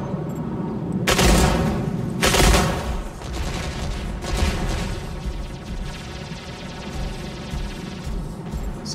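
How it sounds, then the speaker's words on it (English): Video game combat with mortar shells exploding in heavy booms amid rapid bursts of gunfire, loud and dense throughout, with two big blasts standing out near the start. "Saw that mortar warning."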